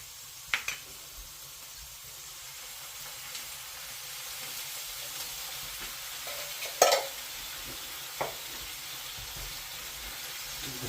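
Chopped tomatoes sizzle in a pot of aromatic beef curry, a soft steady fry with a few sharp utensil clinks and scrapes as it is stirred, fairly quiet and close.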